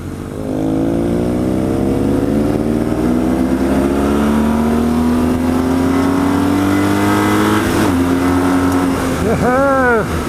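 An old BMW R1200C motorcycle, modified for more power, runs down a straight road with a loud, steady engine drone rising slowly in pitch, then a couple of quick revs near the end, with a voice speaking over it.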